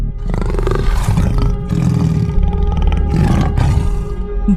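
A tiger roaring in the Sundarbans, deep rumbling roars and growls that swell and fade in long waves, loud and close, with no voices.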